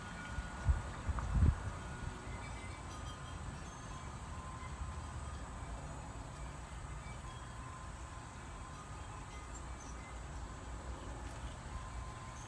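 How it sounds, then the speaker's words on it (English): A steady low rumble of G scale model trains rolling along an outdoor garden railway track, with a couple of louder knocks near the start and faint outdoor rustle throughout. "Sometimes I'll just stand here and watch the trains go around."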